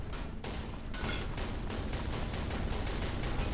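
Cannon in the physics sandbox game People Playground firing a dense, sustained barrage of rapid booming shots, loud and continuous with repeated sharp bursts throughout.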